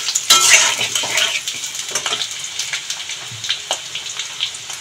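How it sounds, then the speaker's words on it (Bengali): Potato pieces fry in hot oil in a pan, giving a steady crackling sizzle with scattered clinks and scrapes as a utensil stirs them. No one speaks. "আলুগুলো আমরা একটুখানি লাল লাল করে ভেজে নেবো এই তেলে।"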